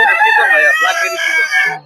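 Chickens crow and cluck loudly and close at a bustling poultry and pigeon market in Mirpur, Dhaka, with several overlapping calls filling the short moment.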